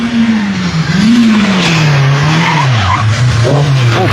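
Rally car skidding through a double hairpin bend at the Rallye National des Bornes near La Roche-sur-Foron: loud, close tyre squeal over a rising and falling engine, sliding continuously for several seconds.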